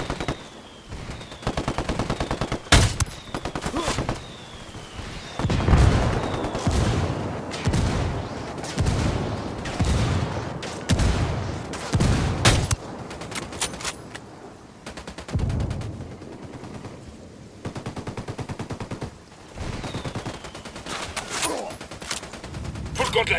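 Heavy in-game gunfire from a Ghost Recon Wildlands firefight, with repeated booming bursts and rapid fire running through the whole stretch as rebel artillery strikes land, loud and close, with a voice speaking briefly at points.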